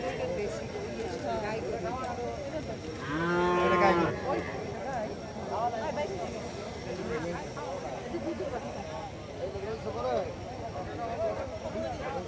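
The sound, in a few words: calves mooing at cattle market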